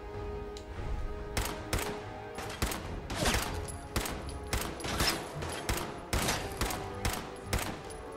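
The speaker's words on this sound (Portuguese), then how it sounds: "Tem um cara mandando muita bala." Rapid bursts of gunfire crackle almost without pause in a Fallout 4 factory firefight, loud volleys of automatic shots repeating in quick, uneven rhythm.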